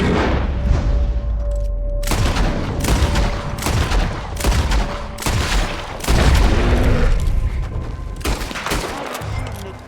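Gunfire in the Red Dead Redemption 2 video game: loud repeated shots and booming blasts in an irregular volley over about ten seconds, with shouting voices mixed faintly underneath.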